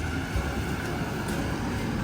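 An old tram passes on the street in Elblag, Poland, a steady, fairly loud rolling rumble of wheels and motor filling the whole short moment without a break.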